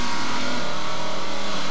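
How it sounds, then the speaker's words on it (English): Drag racing launch at the 1992 NMCA World Finals, a 390 AMX against a 440 Challenger, a dense continuous engine roar filling the clip at steady loudness. "One of the fastest AMXs around, T.D. Holland's 390-68, is facing Kirk Manuel's lethal 440 Challenger"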